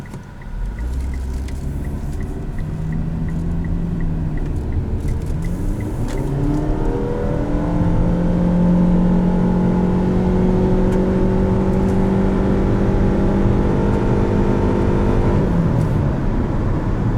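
A 2016 Mitsubishi Outlander Sport accelerates from inside the cabin, its engine note climbing steadily through a long smooth rise, loud and continuous with road hum underneath and no talk.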